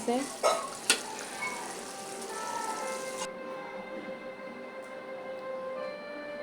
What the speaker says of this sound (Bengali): আমি একটু নাড়াচাড়া করে দিতেছি, নাহলে নিচ দিয়ে লেগে যাওয়ার সম্ভাবনা আছে।